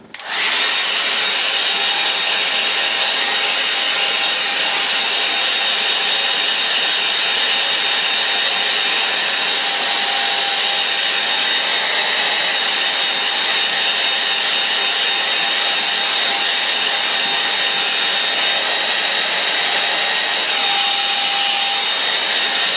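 A hair dryer blows steadily and loudly on a watercolour line-and-wash painting, switching on at once and running as one unbroken close whoosh with a faint whine, with no talk.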